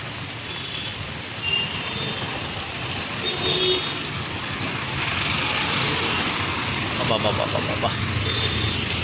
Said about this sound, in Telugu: వర్షం వస్తుంది దగ్గర దగ్గర పది నిమిషాలు పైన వస్తుంది